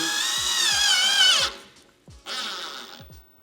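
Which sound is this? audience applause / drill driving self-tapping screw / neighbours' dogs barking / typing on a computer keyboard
drill driving self-tapping screw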